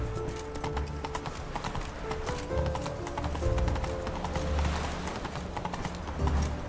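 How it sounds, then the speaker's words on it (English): Hooves clip-clop in a fast, steady rhythm as a horse gallops in the video game The Witcher 3, close and continuous over a low rumbling background. "Whoa there, Roach."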